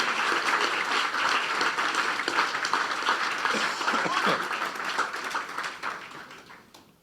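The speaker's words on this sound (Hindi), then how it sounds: "हम जोरदार तालियां यीशु के जलाल के लिए बजाएंगे।" A church congregation claps during a Hindi-Urdu sermon, a steady fairly distant wash of applause that gradually fades out over about seven seconds.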